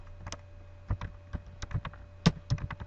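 Quick, uneven keystrokes on a computer keyboard, close and crisp, typing code over a faint steady hum, with no speech.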